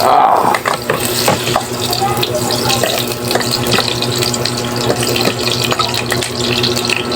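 Onions sizzle loudly in hot cooking oil in a pan at the start of pork adobo, a steady crackling hiss with occasional stirring clatter that carries on throughout.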